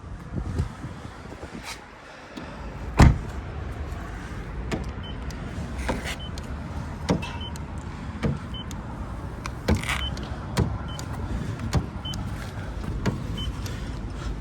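Electric sunroof on a Volkswagen Passat B6 2.0 TDI opening, a steady motor whir inside the car cabin, punctuated by several sharp clicks and knocks, no speech.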